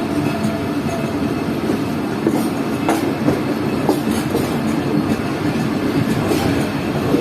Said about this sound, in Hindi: तकरीबन 3 मिनट रुकने के बाद ट्रेन यहाँ से निकल रही है यानी कि रहीम मियां खान से।